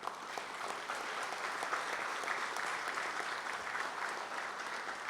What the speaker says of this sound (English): I ask all of you to applaud him